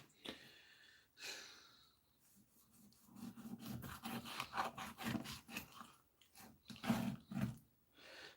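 A knife filleting a fish makes rough, rasping scrapes in irregular strokes, some longer and louder than others, close by with no talking.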